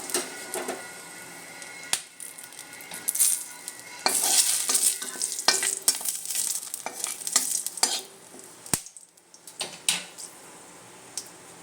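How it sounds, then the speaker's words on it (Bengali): Dried red chillies and bay leaves fry in leftover oil from fried fish, a steady close crackling sizzle with intermittent stirring scrapes and clicks; no talking. "এই যে মাছ ভেজে যে তেলটুকু রয়েছে, সেটার মধ্যে আমি মাছের ঝোলটা তৈরি করব। তো তাতে দিচ্ছি আমি শুকনো লঙ্কা, তেজপাতা,"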